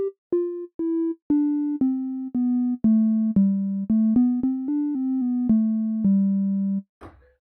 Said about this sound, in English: We'll be looking at a bell tone sound